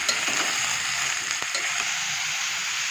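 Ridge gourd pieces fry in a pan, giving a steady, loud sizzle throughout with faint scraping and stirring clicks scattered over it.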